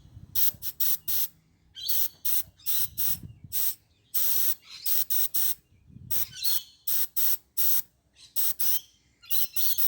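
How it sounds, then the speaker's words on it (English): An aerosol can sprays paint onto a model railway water tower in short hissing bursts, around a dozen close, loud sprays separated by brief silences. "So I actually did spray it inside."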